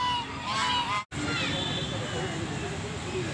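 Honking calls from a flock of ducks at a zoo in Karachi rise over a crowd's background chatter, with people talking nearby.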